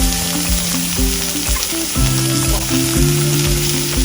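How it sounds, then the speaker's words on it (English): Ground turkey, onions and minced garlic fry in a pan and are stirred, giving a loud, steady sizzle with scraping strokes close by and a faint tonal hum underneath. "And now we're going to stir it around."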